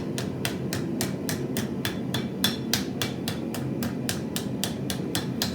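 Steady, evenly spaced hammer blows shape a copper coffee scoop bowl, about fifteen sharp metallic taps in a row over a continuous low background hum.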